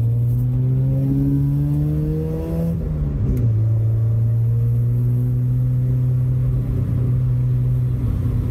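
A Mazda RX7 with a self-built naturally aspirated bridgeport 13B rotary engine driven fast, loud and close, its buzzy engine note climbing steadily, dropping at a shift and then pulling again at a high, even pitch.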